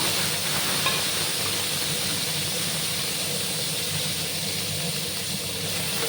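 Cucumbers tipped into hot oil with a little white mustard seed for a Bengali cucumber curry, giving a steady, loud, hissing sizzle that holds unbroken throughout with no talk.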